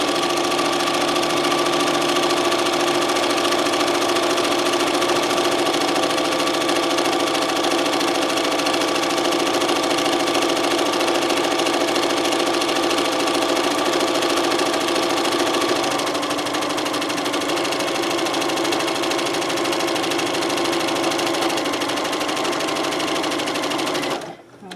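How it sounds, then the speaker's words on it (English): Sewing machine running a long continuous seam on a pillowcase, a loud, close, even motor whir with rapid needle clatter that holds steady for over twenty seconds before stopping abruptly. "And sew right down this seam."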